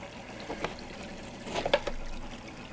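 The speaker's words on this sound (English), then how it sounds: "Water flows down in here." Water trickles and pours through the filter system of a saltwater fish tank, a faint close splashing with a few brighter drips over a soft steady hiss.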